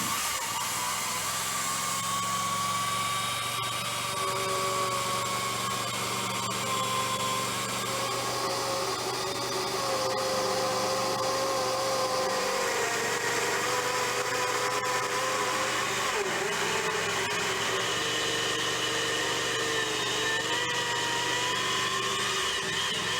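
An ICS diamond wire saw, held by a pipe clamp, cuts steadily through pipe with a continuous loud whining motor drone and grinding hiss. The pitch shifts slightly as the cut goes on, with no talk.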